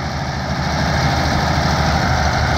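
A Case 2290 tractor engine idling steadily on a farm, a loud, close, continuous low rumble with no talk over it.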